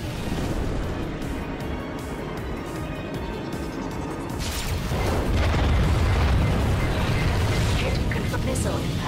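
A missile slams into its target in the Ratchet and Clank game, a loud booming blast that swells midway and rumbles on amid dense battle noise.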